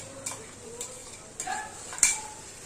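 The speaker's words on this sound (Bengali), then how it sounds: "আদা রসুন কাঁচা লঙ্কা শুকনো লঙ্কা এবার মশলাটাকে ভালো করে কষাবো" A spice paste of ginger, garlic, and green and dried chili is stirred and sautéed in a pan. Four sharp spoon taps and scrapes against the metal sound over a faint, low sizzle.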